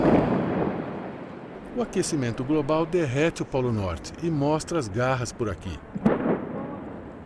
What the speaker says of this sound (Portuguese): Quando o pedaço se solta, o barulho remete a um tiro de canhão.